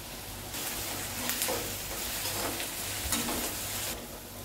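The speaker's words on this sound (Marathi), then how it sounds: "आपण फास्ट गॅसवर परतून घेऊ। आता कांदा थोडासा पटकन परतावा म्हणून आपण थोडंसं मीठ टाकतोय।" Steady sizzling of onion sautéing with salt on a high flame, with occasional stirring scrapes, close and fairly loud, no voices.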